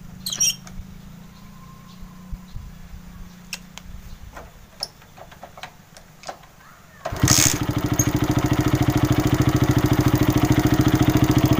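A few scattered clicks and taps, then a motorcycle engine with a newly fitted spark plug abruptly starts from cold and settles into a loud, steady idle close by.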